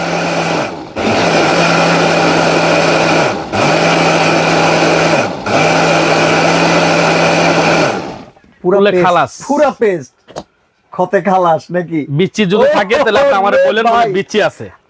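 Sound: blender motor running

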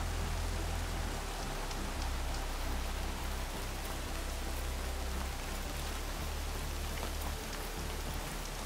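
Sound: rain in video game Horizon Forbidden West

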